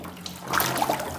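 Small splashes and a soft watery trickle as marreco irerê (white-faced whistling duck) ducklings swim and dive underwater, close and moderately quiet, with a few brief plops standing out.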